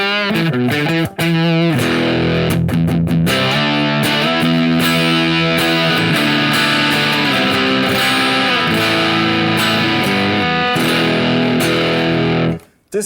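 A heavily distorted electric guitar plays loud sustained chords and a few choppy strummed hits, thick and saturated, ringing out before stopping abruptly.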